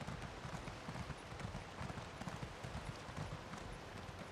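Hooves of an Imperial Horse mount in the video game Elder Scrolls Online, a steady soft clip-clop rhythm of a running horse, faint and continuous with no speech.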